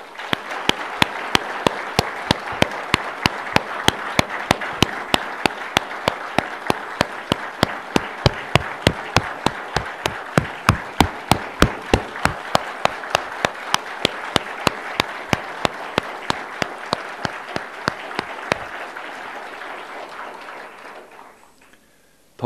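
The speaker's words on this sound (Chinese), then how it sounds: "我邀请大家是不是以最热烈的掌声感谢苏院长这四年" A crowd at a Taiwanese political gathering claps for Premier Su in steady, rhythmic unison, loud and sustained for about twenty seconds before thinning out and fading at the end.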